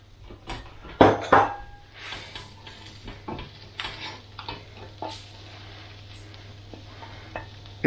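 A spoon scrapes and clinks in a pan as butter and herbs get stirred through garlic for bangers and mash gravy, giving scattered sharp metallic knocks over a faint sizzle and a low steady hum.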